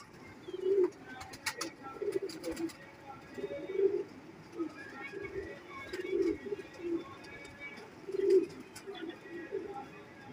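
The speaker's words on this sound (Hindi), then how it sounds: "ये दोस्तों एक सियालकोटी जौनसरे नीलदुम्बे कबूतर है, ये फीमेल है" A female Sialkoti Jonsray Neeldumbe pigeon coos softly at close range, with low repeated coos at a slow, uneven rhythm over a quiet background.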